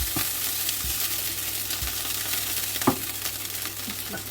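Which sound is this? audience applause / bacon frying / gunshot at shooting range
bacon frying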